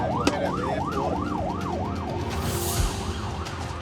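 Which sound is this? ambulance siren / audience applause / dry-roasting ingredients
ambulance siren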